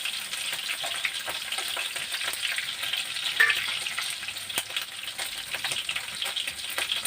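Prawns frying in a pan for a curry, a loud, dense crackling sizzle held throughout, with a few sharp clicks from stirring and no voices.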